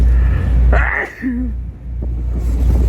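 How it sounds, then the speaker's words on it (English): A single sudden sneeze bursts out close by at Niagara Falls against a steady low background rumble, followed by a brief voiced exhale and quiet. "Oh, I just sneezed all inside my area."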